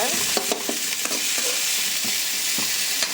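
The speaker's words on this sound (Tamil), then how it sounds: "வெங்காயத்துக்கூட தக்காளியும் போட்டு நல்லா வதக்கிக்கோங்க." Chopped onions and tomatoes sautéing in a hot pan, a loud continuous sizzle with spatula scrapes and taps along the way, close and without any voices.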